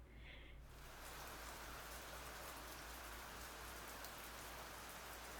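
Steady rain falls on a stone path in a video game, an even, continuous hiss of drops on hard ground with no voices.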